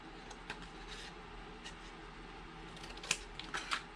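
Quiet, sparse snips of scissors cutting paper for a small craft box, a few crisp clicks and cuts spaced irregularly over soft room noise, close up with no talking.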